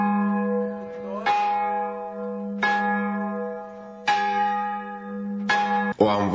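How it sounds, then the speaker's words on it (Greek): Church bells ring loud and close in a slow, regular pattern of about five rich strikes, each tolling into a sustained hum, with no voices over them. "χτυπούν οι καμπάνες στην Αιγαίρια και τα Καλάβρητα"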